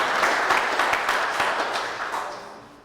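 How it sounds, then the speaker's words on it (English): Audience applause at a St. Louis gun buy-back event, a dense crowd of clapping that holds steady and then tapers off toward the end, with no talking. "let's give him one more big round of applause for giving back"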